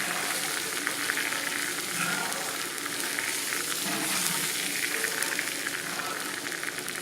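Liver and onions fry in a hot pan with a steady, moderately quiet sizzle and crackle, broken by occasional stirring sounds and no voices.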